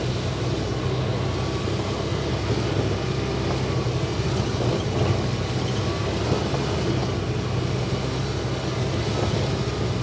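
A Polaris Ranger 800 AWD utility vehicle drives steadily toward a sand pit, its engine a constant, fairly loud drone with no breaks or voices.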